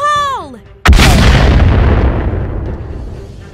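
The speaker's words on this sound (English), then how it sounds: "This is all the explosives that made it. You ready? Fire in the hole!" Explosives detonate in an audio comic sound effect: a shouted voice is cut off by a sudden huge blast whose roaring, crackling rumble slowly fades over several seconds.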